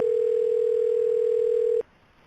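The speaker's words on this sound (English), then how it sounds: "Listen to this phone call." A telephone dial tone holds as one steady, loud pure tone for nearly two seconds at the start of a phone call, then cuts off abruptly to quiet line hiss.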